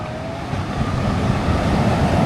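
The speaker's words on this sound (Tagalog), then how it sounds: "Grabe, lakas ng alon." Strong ocean waves along a Calabasa, Gabaldon coastline, a steady loud roar of surf filling the air without letup and with no voices over it.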